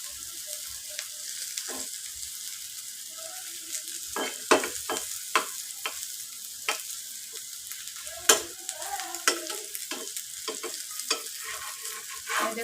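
Eggs fry with green chillies in a hot pan, giving a soft, steady sizzle broken by sharp scrapes and taps of a spatula as they are turned and stirred. It is close and fairly quiet, with no talking.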